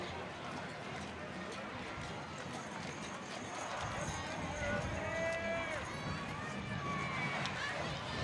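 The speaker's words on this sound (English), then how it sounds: "Oh, you can't have enough horses in a parade." Belgian draft horses clip-clopping on pavement in an opening day street parade, a steady rhythmic hoof beat with crowd noise and nearby talking throughout.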